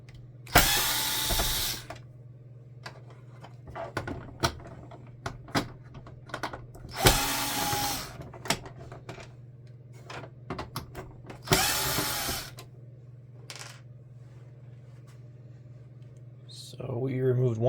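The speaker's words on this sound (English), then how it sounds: "At this point, let's remove all the screws that we have here." Screws come out of an HP ENVY 4512 printer during disassembly, with several bursts of a power screwdriver whirring, scattered clicks and rattles of parts, and a steady background hum.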